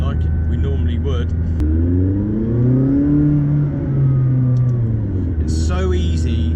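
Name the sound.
McLaren 600LT engine driving in automatic mode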